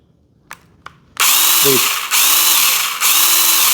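Makita cordless mini pruning chainsaw on an XLT battery, preceded by two sharp clicks, then the motor revs up loud and close with a high whine, dipping twice briefly before spinning up again.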